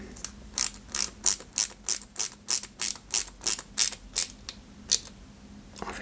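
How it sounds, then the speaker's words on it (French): Self-tapping screws being driven into a 1/8-scale Citroën 2CV AZLP model, a rapid series of about fifteen sharp ratcheting clicks at a steady pace, close and fairly loud, with one final click after a short pause. "Là, on y met deux vis AP de chaque côté."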